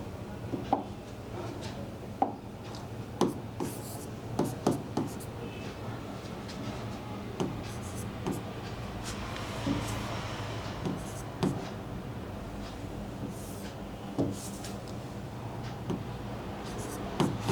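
A pen writing math problems on paper, quick scratchy strokes and taps repeating close up for a long stretch, with occasional light knocks and no speech over it.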